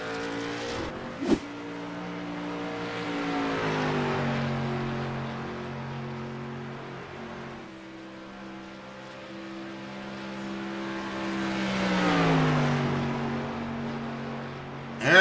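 Street stock race cars on the Atlanta ROVAL circuit, engines revving and accelerating as cars sweep past, the roar rising and falling in pitch through two long passes, a sharp pop near the start.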